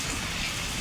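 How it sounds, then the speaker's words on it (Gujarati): Heavy monsoon rain pouring down during a storm, a dense steady hiss close by with no pauses. "વરસાદ આવે છે"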